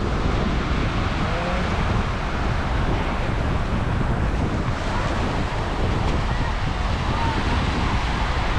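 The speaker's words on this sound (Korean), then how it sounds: "파도가 또 밀려와요. 파도가 끊임없이 밀려와요." Ocean waves at Pyoseon Beach on Jeju roll in continuously, a steady broadband wash of surf with wind buffeting the microphone throughout, loud and close, with no talk.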